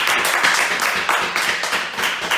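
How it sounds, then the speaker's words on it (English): A crowd at a political gathering applauds steadily, a dense, continuous patter of many hands that is loud and close throughout. "Clap for them, please"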